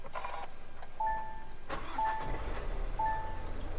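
A 2024 Kia Seltos diesel with iMT starts up while soft electronic chimes repeat about once a second in the cabin, and a low engine rumble swells beneath them once it catches and settles into an idle.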